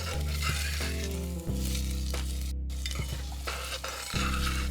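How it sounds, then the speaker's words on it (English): Onions, carrots and celery sizzle steadily in a pot over medium-low heat for black bean soup, stirred with a few soft scrapes and clinks of the spoon, close up and loud. "Give it a little stir."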